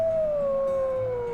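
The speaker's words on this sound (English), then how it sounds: "Let's maybe do a howl." A wolf in the video game WolfQuest lets out a single long, clear howl that slides slowly downward in pitch, sustained and mournful at a moderate level, with no voices over it.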